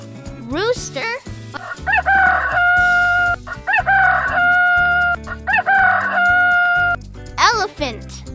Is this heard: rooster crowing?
yes